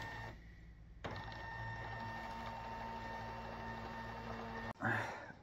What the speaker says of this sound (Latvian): tagad skenējās akti.